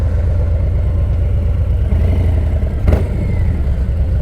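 A motorcycle engine fitted with a new aftermarket exhaust runs loud and steady up close, with a deep low rumble and a brief rev surge near the end, no talking over it.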